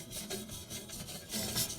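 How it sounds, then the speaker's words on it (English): A wire brush scrubs a rusty shovel blade soaked in baking soda and vinegar, giving steady rasping strokes up close that swell louder toward the end. "And then scrub it with the wire brush."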